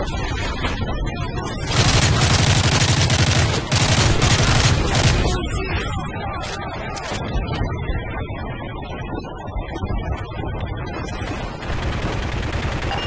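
Heavy automatic gunfire and explosive blasts in the Modern Warfare 3 campaign, a loud sustained barrage at first that thins into scattered shots and distant battle noise.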